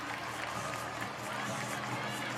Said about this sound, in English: And the CHONGQING crowd react.